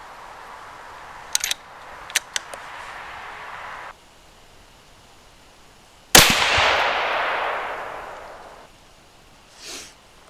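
A single loud, sharp .308 rifle shot firing a 168gn Hornady BTHP load with Varget powder, followed by a long decaying echo across an open range, preceded by a few faint clicks.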